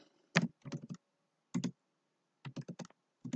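Short bursts of keystrokes on a computer keyboard while writing CSS code, clustered clicks separated by pauses, close and fairly quiet with no talking.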